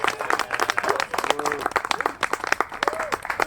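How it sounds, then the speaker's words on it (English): Applause from a small crowd at an outdoor bike storytelling night camp-out, with brisk uneven hand claps close by and scattered voices talking and calling out over them. "let's give him a round of applause for setting this up for us"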